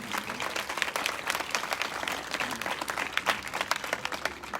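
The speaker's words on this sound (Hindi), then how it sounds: "ताली बजाकर परमेश्वर का धन्यवाद करें।" A church congregation claps together to thank God during a convention service, steady dense applause filling the room for several seconds with no speech over it.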